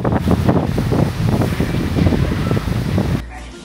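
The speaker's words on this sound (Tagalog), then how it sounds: "Nakikita nyo po, napakalakas po ng mga hangin." Strong typhoon wind in Isabela province roars and buffets a microphone in dense, continuous gusts, loud and close, with rain and possible speech mixed in, before dropping sharply near the end.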